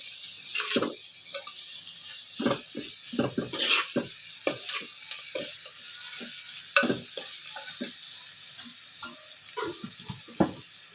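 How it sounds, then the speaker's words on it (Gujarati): A spiced vegetable curry fries in a pan while a spoon stirs it. Irregular scraping strokes and soft sizzling repeat close by, with no talking. "ફરીથી થોડુંક કલાવી લઈશું બધા મસાલા મિક્સ કરી દેવાના છે"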